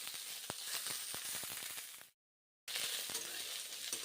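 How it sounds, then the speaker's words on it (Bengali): Drumstick (sajne) leaves fried in a pan after onions, giving a soft, steady sizzle with faint crackles and stirring. It cuts to silence for about half a second and then resumes. "এখন সজনে পাতাগুলোকেও ভেজে নিচ্ছি"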